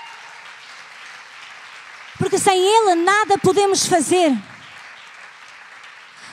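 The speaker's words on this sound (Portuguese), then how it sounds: "Aplauda a Jesus nesta manhã," A church congregation applauds through a morning service, a steady wash of clapping running under a woman preacher's voice, which rises loudly in the middle.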